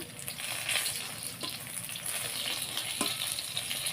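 Fish fries in a pan with a close, continuous crackling sizzle, broken by a few soft clicks and a sharp knock at the very end.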